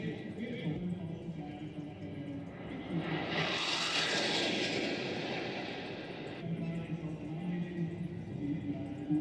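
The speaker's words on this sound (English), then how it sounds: "they've got jets flying over" Jet aircraft passing overhead at a large outdoor performance event, a broad roar swelling to a peak midway and then fading, heard over steady crowd and background noise.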